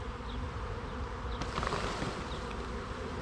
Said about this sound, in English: I want to shake bees off of the open brood frames, because that's where the nurse bees will be